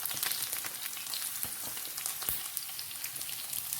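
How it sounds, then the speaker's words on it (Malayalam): Mustard seeds, fenugreek and chopped shallots frying in hot oil for a tempering for a yogurt moru curry give a steady, fairly quiet crackling sizzle with scattered sharp pops and no talking. "ഇതിലേക്ക് ചുവന്നുള്ളി അരിഞ്ഞു വെച്ചത് ഇട്ട് കൊടുക്കാം"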